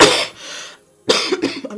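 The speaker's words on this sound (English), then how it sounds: "I'm just having cough." A person coughs loudly up close: one harsh burst, a short pause, then a second rough cough that trails into throaty sounds.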